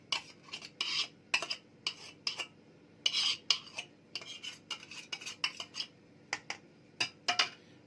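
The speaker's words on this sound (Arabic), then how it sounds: "واقلب بالمعلقه الكبيره بتاعتي كده، واضمن انها كلها ايه اتهرست" A big spoon scrapes and knocks against a pot or bowl while stirring and mashing potatoes, in irregular bursts of clinks and scrapes, close and fairly loud with short pauses.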